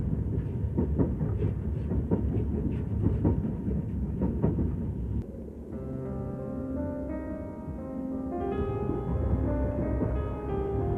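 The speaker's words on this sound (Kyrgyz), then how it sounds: "Мына поездда кетип баратабыз, Кудай буйруса." A passenger train on a long journey to Astana rumbles steadily from onboard, a continuous low roar with faint rhythmic clatter that gives way midway to a smoother hum and a drawn-out tonal squeal, with no one speaking.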